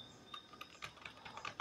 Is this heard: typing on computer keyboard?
yes